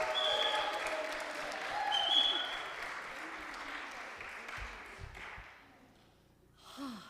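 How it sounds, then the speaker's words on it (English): Applause for a woman who stepped in to lead a Sunday service, a dense wash of clapping that swells around the second second, then thins and fades out toward the end, with some murmuring underneath. "let's just have a big round of applause for Lena for stepping in for lead today."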